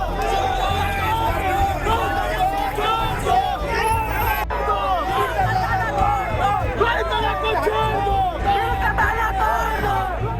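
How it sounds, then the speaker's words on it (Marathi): A large crowd of NCP party workers gathered outside an ED office, a dense, loud, continuous babble of many voices shouting and chanting together without a break. "त्यांच्याकडून जोरदार घोषणाबाजी केली जात होती"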